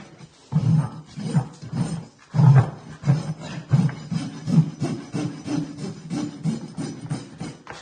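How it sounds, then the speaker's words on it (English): A farrier's rasp filing the high spots off a horse's hoof, a close, loud, rhythmic series of coarse rasping strokes with no voices. "I'm going to take my rasp and just take the high parts off the cuffs."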